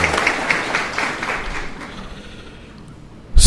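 Applause from the audience at a solemn council ceremony in Ibatiba, Brazil, honoring a new honorary citizen: steady crowd clapping that fades gradually, then a sudden loud burst at the very end.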